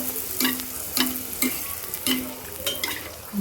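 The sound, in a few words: puri frying in oil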